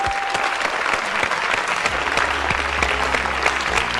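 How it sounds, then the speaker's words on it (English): A TV quiz show studio audience applauds a contestant for three correct answers, a loud, sustained wash of clapping with a low musical tone entering partway through. "vous avez fait 3 bonnes réponses et on vous applaudit, Evelyne."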